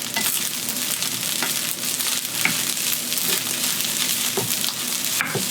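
Leftover cooked beef and rice reheating in a frying pan: a steady, close sizzle with scattered scraping and clicking from stirring throughout.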